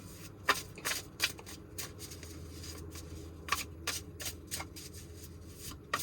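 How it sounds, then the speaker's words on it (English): A deck of tarot cards is shuffled by hand close up, with crisp riffling bursts and soft rubbing between them, repeated several times over a few seconds. "One more shuffle."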